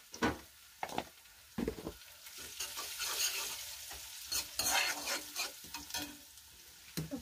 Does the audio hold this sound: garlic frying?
yes